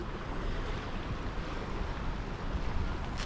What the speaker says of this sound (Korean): 파도 소리 보면서